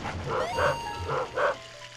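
A dog barking from a doghouse in the Luigi's Mansion video game, three short yipping barks in quick succession, clear and close.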